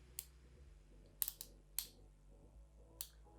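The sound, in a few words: twist-up brow pencil making a clicking sound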